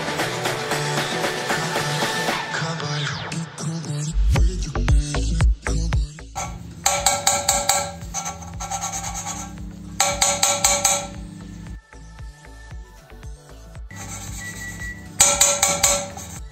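Valve being lapped by hand into its seat on a Ford Falcon 187 cylinder head with coarse grinding paste, giving repeated gritty scraping and rubbing strokes with metallic clinks, close and fairly loud with no talk.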